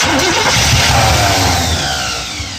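A Chevrolet Scottsdale pickup's engine cranks over with a freshly rebuilt Holley carburetor, loud and close, a steady churning drone that fades slightly toward the end.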